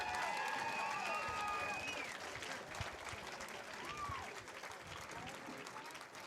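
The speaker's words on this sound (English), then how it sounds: "let's get a round of applause for all of our boys co-ed team finals here" Audience applause and cheering for boys co-ed bowling team finalists at a high school state championship in a bowling alley, a dense steady wash of clapping with whistles and voices mixed in throughout.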